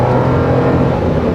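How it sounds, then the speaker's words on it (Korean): A Suzuki Wagon R Hybrid FX-S 2WD kei car under full-throttle acceleration, its engine droning loud and steady from inside the cabin. "풀 가속을 하잖아요"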